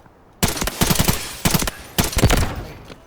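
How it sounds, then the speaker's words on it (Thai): Automatic gunfire from a weapon in the Delta Force video game, fired in three bursts of rapid shots, loud and close, with short pauses between bursts. "เดี๋ยวผมยิงให้ดูก่อนนะว่า รถลังดีดเรามันนิ่งหรือเปล่านะครับดู"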